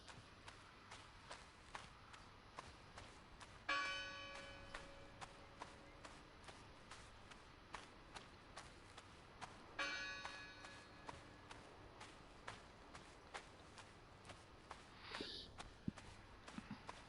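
Two clear bell strikes ring out in the video game Draugen, each with a long, shimmering decay, over a steady bed of soft footsteps that crunch and tap throughout.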